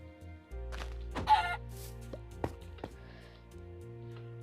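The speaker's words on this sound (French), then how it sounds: "Voilà, les poulets bleus." Modded blue chickens in Minecraft give a few short clucks over a low steady game hum, with a couple of sharp clicks in between.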